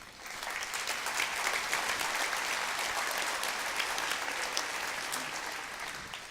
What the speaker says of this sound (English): I think you all deserve a round of applause for yourselves